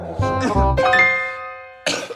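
A person coughs a few times in quick, harsh bursts, then a clear sustained ringing tone follows before one more short cough at the end, all close and fairly loud.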